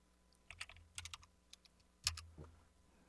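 A handful of keys pressed on a computer keyboard during accounting data entry, scattered sharp clicks over about three seconds with one heavier keystroke near the end, close and quiet with no voices.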